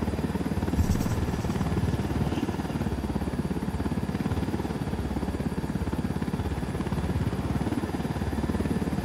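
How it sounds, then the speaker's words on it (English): Helicopter in the video game Ghost Recon Wildlands, a steady loud rotor chop with engine whine that holds constant throughout, close and alone without talk. "I'll ping the chopper's location to the rebels so they can take ownership."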